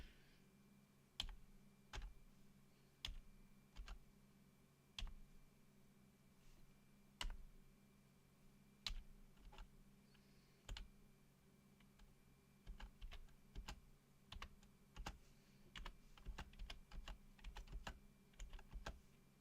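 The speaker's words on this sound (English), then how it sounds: "I literally just type out the alphabet." Computer keyboard typed with caps lock on, faint and close, isolated key clicks spaced a second or two apart that speed into quicker clusters near the end, over a low steady hum.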